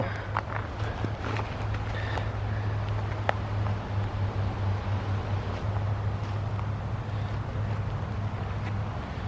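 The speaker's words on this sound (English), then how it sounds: "Sorry about the wind up here." Constant wind buffeting the microphone high on Marsh Peak, a low steady rumble with gusty roar throughout and no other clear sounds.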